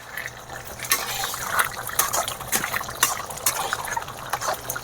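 Chickpeas with water and spices are poured into a cooking pan, producing a steady close splashing and trickling of liquid with small irregular bursts.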